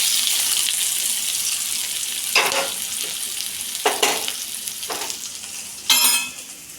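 Onions frying in a little oil in a kadai, a steady close sizzle broken by several bursts of stirring and scraping.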